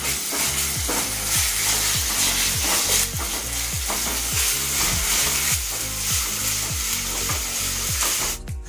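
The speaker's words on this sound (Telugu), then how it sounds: "ఇది కూడా మనకు పచ్చి వాసన పోయేంత వరకు మంచిగా వేయించుకోవాలి." Ginger garlic paste fries with onions and chillies in a pan, a steady loud sizzle with a regular scraping rhythm from stirring, close up and with no talking.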